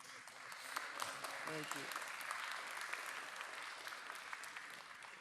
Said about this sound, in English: You all don't know how nice it is to get applause for approving projects.